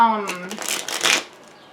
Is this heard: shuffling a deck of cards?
yes